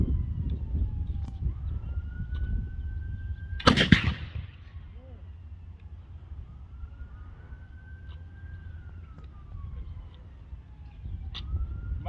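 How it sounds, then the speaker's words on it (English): A single sharp rifle shot rings out at Fort George, one loud crack with a brief echoing tail, set against a steady background drone and a distant wavering siren. "the rifle makes a distinct crack in comparison to the musket's thud"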